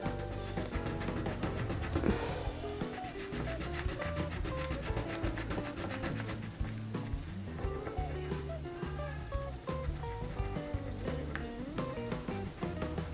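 An eraser rubs back and forth across a paper drawing to lift colored pencil lines, giving a continuous scratchy rasp with quick rhythmic strokes, close and fairly loud.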